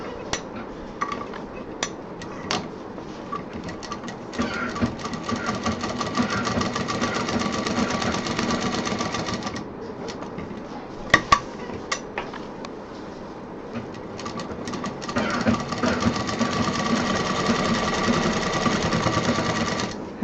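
A sewing machine stitching a thick bag handle with a heavy belt strap and wooden beads, in stretches of rapid needle clatter broken by short pauses and a couple of sharp knocks.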